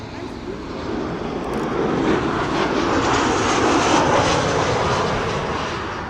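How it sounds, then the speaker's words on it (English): An Emirates Boeing 777 bound for Dubai takes off from the center runway at Amsterdam Schiphol Airport, a loud steady jet engine roar that swells gradually and holds, heard from a distance across the airfield. "It should be taking off from the center runway going to Dubai"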